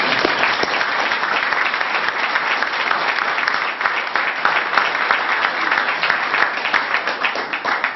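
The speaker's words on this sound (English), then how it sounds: "We can clap for him again, can't we?" A men's college basketball press conference audience claps loudly and continuously, a dense, even wash of applause with no talk over it.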